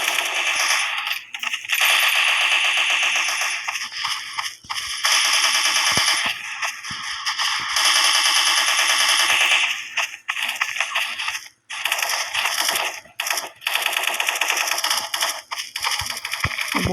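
Dual pistols fire in a shooting video game, producing sharp, clicky shots in rapid runs and bursts with short breaks, close and bright throughout.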